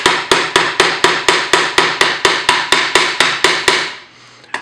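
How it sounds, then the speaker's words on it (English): Metal wire swirls hammered for a textured finish: about fifteen sharp, evenly spaced ringing strikes, close and loud, then a brief pause and one lighter tap at the end. "since I'm doing it, might as well give it all a little hammered look"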